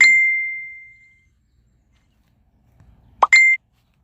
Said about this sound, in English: Sorry, I didn't turn off my notification bell.